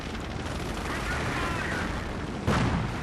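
Artillery fire in a strategy video game, a continuous rumbling barrage of blasts with a sharper, louder impact near the end, with commentary running over it.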